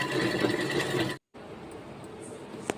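Steady whirring drone of a sewing machine stitching school uniform sleeves, close and continuous, briefly cutting out for a moment before running on again with a faint click near the end.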